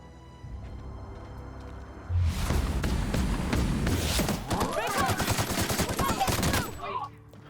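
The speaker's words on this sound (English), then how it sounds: "Then I'm going to sneakily run out there with my machine gun." Rapid machine gun fire in The Outer Worlds: loud, dense bursts of shots roll on for several seconds with no break, after a quieter lead-in.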